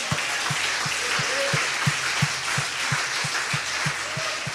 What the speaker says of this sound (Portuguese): Se você crê, aplaude o Senhor.